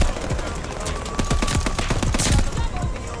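Rapid bursts from an NZ-41 gun in the Call of Duty Vanguard video game, with dense, loud, crackling shots packed close together amid busy game noise.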